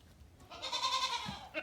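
A splashy-coloured goat lets out a single drawn-out bleat, close and fairly quiet, with a brief sharper bleat at the end.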